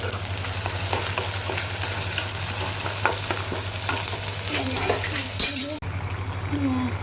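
Oil heats and food fries in a kadai with a loud, continuous close-up sizzle. Stirring clinks and scrapes run through it over a constant low electrical hum.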